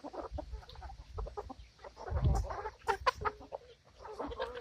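Backyard hens clucking in a run, a busy flurry of short, close clucks and murmurs, with one louder squawk midway and no talk.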